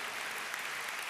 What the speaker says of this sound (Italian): è un applauso a Gesù Cristo